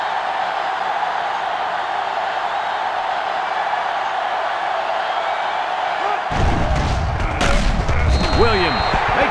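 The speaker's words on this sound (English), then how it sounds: "They're really struggling now as this crowd is going absolutely insane" In the NCAA Football 07 video game, a stadium crowd gives a steady broad roar that swells louder near the end with thuds and bangs mixed in.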